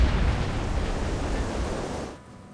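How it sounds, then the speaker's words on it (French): A loud, rushing roar of an airliner striking the ocean at nearly 200 km/h, impact and churning noise filling the clip, then abruptly dropping away to a quieter rumble. "L'avion percute l'eau à près de 200 km/h."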